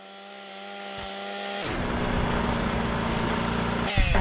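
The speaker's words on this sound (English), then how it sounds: "I'm just going to chainsaw it to death." A chainsaw attack in the Fallout Tale of Two Wastelands mod: a low idle hum abruptly revs into a loud, sustained buzzing roar that holds for a couple of seconds, then drops back to idle.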